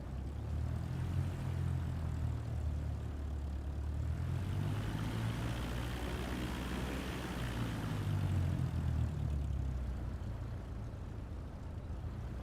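A Cessna propeller plane in Microsoft Flight Simulator 2024 drones steadily through its takeoff roll, engine pitch rising and falling in broad sweeps, loud and continuous with no voices.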